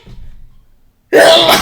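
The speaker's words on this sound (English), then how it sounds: "Excuse me, y'all. I had sneezed." A man lets out a single loud, abrupt sneeze close to the microphone after a stretch of faint low rumble and near silence.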